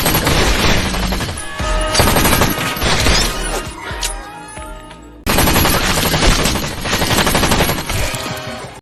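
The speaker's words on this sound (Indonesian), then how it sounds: "Polisi Sanchez yang melihat hal itu langsung beradu tembakan dengan Luke" Rapid, dense gunfire in a film shootout between a police officer and a gunman, loud continuous bursts of shots with shattering debris, a brief lull midway before the barrage resumes at full force.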